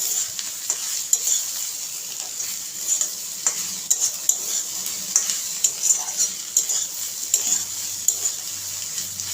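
Egg and fried potatoes sizzle in oil in a pan while a utensil stirs and scrapes them, the bright frying hiss steady beneath repeated clinks and scrapes.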